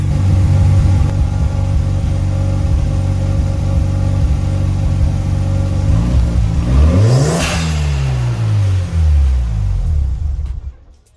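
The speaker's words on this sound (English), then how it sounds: "the car is up to temperature now, so I'm just going to turn it off" A 1992 Mazda RX-7 FD3S Efini rotary engine runs warm at a steady, loud, close idle, then is switched off and winds down with a falling whine to near silence.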